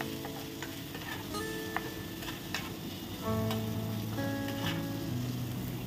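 Chopped tomato and green chilli fry in a pan, salted so the tomato softens, with a steady close sizzle and scraping stir strokes throughout, busier in the second half.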